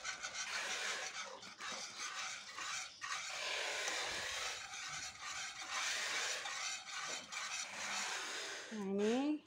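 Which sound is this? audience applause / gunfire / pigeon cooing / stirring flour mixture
stirring flour mixture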